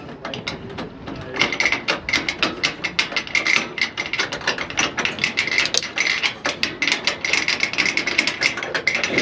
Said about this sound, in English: And then I turn my turnbuckles to loosen it.